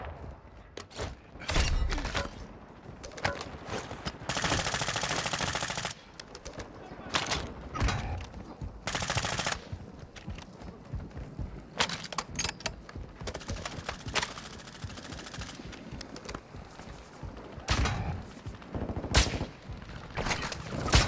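Call of Duty: Warzone Resurgence gunfire on the Vondel map comes in loud bursts of automatic fire and single shots, with near and distant rattles separated by short pauses, and game voice lines heard between them.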